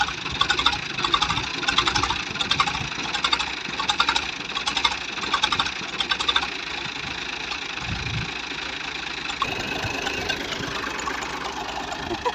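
A Ghazi tractor stuck deep in mud runs with a steady, rough engine drone and rhythmic knocking, fairly loud and continuous, with a shift in tone near the end.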